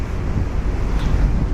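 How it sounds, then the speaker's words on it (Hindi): Wake waves rushing behind a ferry at sea on the Holyhead to Dublin crossing, a steady loud wash of water blended with heavy wind buffeting the microphone, with no talking. "तो आप देखिए कैसी लहरें छोड़ता चला जा रहा है जहाज़।"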